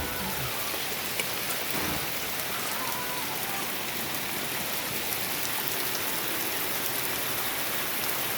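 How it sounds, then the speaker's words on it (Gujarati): Rain falling steadily on an open area at a village during the Aatham festival day, a dense, even hiss that holds constant throughout. No voices. "આ વરસાદ ચાલુ જ છે અત્યારે"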